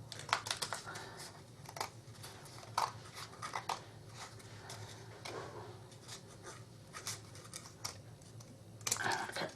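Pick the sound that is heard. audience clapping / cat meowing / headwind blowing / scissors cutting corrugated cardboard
scissors cutting corrugated cardboard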